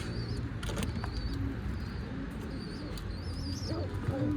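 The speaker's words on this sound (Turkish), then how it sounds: "Ama güzel bir kuş." Soft, repeated pigeon cooing close by, with faint chirps and low background hum.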